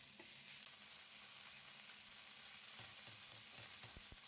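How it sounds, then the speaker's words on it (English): Minced meat searing in a pan of hot olive oil, a steady close sizzle with a few soft pops and scrapes toward the end. "Add the minced meat and spread out in a single layer."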